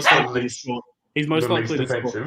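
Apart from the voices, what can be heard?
dog barking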